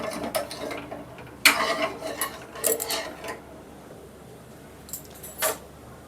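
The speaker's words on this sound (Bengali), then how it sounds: "আমি একটু এই হাতাটা দিয়ে মিশিয়ে দিচ্ছি।" A ladle stirring sweet milk tea in a pot on the stove, with clinks and scrapes of metal against the pot in irregular bursts, some louder knocks between quieter stretches.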